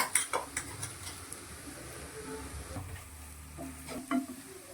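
Ground masala for Mangalorean egg sukka fries in a pan, a faint continuous sizzle with a few clinks and scrapes of stirring near the start and end.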